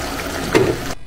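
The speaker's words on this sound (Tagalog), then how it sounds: "dagdagan na natin ng tubig" Water is poured briefly into a pot of caldereta, a short splashing pour of about a second that cuts off abruptly.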